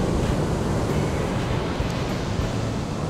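Ocean waves rolling onto a deserted beach, a loud continuous roar of surf mixed with wind buffeting the microphone, no voices over it.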